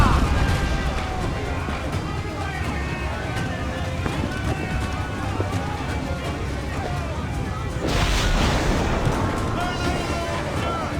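Cannon broadside fire from a sailing ship in Assassin's Creed IV Black Flag, rumbling booms and crashing volleys over constant sea-battle noise, with crew voices shouting throughout and a louder burst near the end.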